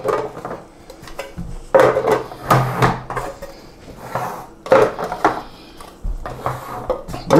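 Lids pushed down onto card storage boxes in a reboxing setup, giving irregular close bursts of cardboard rubbing, tapping and hollow thumps separated by brief quieter pauses.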